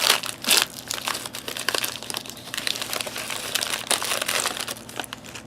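Crinkly plastic packaging of a Desert Storm era MRE from around 1992 being torn and opened by hand, giving a busy run of close, uneven crackles and rustles with no talking.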